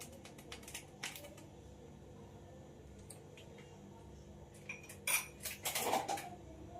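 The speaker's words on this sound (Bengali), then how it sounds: "এবার মশলাটা আমি ভালো করে মেখে নেব।" Chicken tandoori masala is worked together in a bowl, with quiet intermittent clinks and scrapes of a utensil against the dish and a brief burst of louder clattering near the end.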